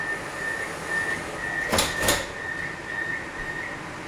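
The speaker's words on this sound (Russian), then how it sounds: "Осторожно, двери закрываются." A Moscow Metro train door slides shut with a short pneumatic rush and thump over a steady electric hum and a faint high tone inside a carriage, near Mezhdunarodnaya station.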